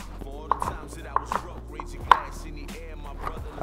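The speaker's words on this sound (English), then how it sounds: "We're gonna chop some garlic up." Knife chopping fresh garlic on a cutting board, a few sharp close knocks spaced irregularly over quiet background hum.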